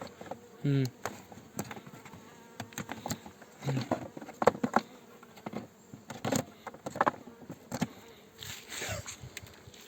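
Honeybees buzz around a weakened hive, sounding as scattered close passes that rise and fade in irregular bursts over quiet background, with brief patters between them.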